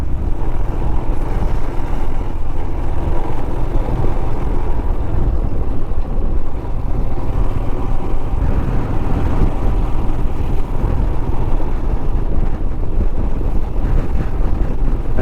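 Motorcycle ride on a scenic hill road toward Bhimashankar with patches of gravel; a loud, steady engine drone mixed with heavy wind buffeting runs unbroken throughout, close to the rider.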